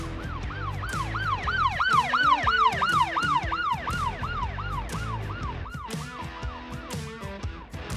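Police car sirens wail loudly and continuously, with repeated rising-and-falling sweeps from several vehicles, as a convoy of Denver police cars chases a Jeep Grand Cherokee along a highway.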